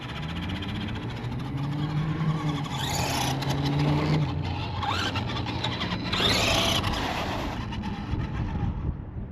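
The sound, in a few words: FMS Ford F-100 RC monster truck driving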